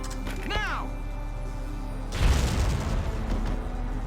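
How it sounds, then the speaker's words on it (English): A mortar explodes in the video game Valkyria Chronicles: a deep, rumbling boom that swells midway through and lingers over a constant low game hum, after a brief rising tone. "Mortar!"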